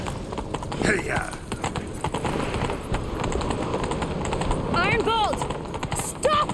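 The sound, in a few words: horse galloping in The Witcher 3 video game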